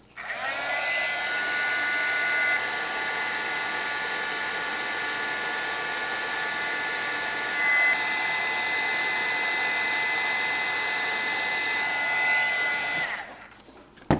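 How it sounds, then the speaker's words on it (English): A heat tool set on high blows hot air onto the edges of a plastic bottle, giving a continuous close whirring hiss with a faint whine that shifts pitch slightly, then cuts off near the end. "I'm going to take the heat tool and turn it on high, and I'm going to go ahead and I'm going to heat this edge and then this edge."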